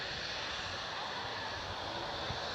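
An airplane taking off at Birmingham Airport gives a steady, loud engine roar that fills the whole stretch without a break and is heard from a distance outdoors.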